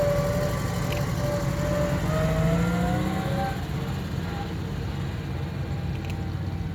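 A classic Vanden Plas car runs at a British Leyland car show at Gaydon, its engine humming steadily nearby with a smooth, even note that rises slightly and then settles.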